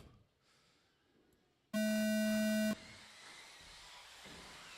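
A single loud, steady electronic start tone signals the beginning of a club car race, lasting about one second as a pure pitched beep over quiet background noise, then leading into a louder engine-like rumble.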